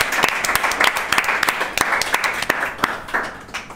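Loud audience applause for Alex at a live evening show fills the room, a thick burst of clapping with sharp individual claps standing out, continuing without pause for several seconds.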